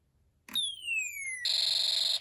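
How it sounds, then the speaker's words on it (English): An electronic laser-like zap from a Snap Circuits Space War integrated circuit sweeps downward, then a harsh buzzing pulsing tone holds steadily before cutting off abruptly. "you'll hear the sounds from the Space War integrated circuit rapidly changing"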